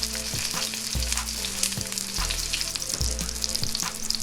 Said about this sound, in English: adding about 4 tablespoons of olive oil in a pan. And then we just gonna get our roast right on in. And we just gonna brown them on all 4 sides.